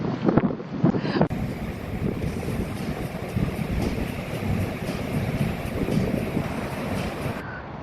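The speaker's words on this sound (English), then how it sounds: "We're having a very bad storm here." A storm wind roars and buffets the microphone in one steady, loud blast that continues throughout, with gusting swells and no voices.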